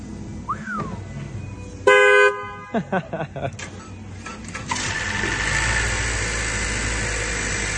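A car horn chirps, then a Honda 1.5L turbo engine cranks and catches on first startup after turbo replacement, settling into a steady, fairly loud idle with a whirring hiss.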